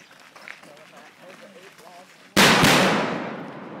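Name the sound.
explosions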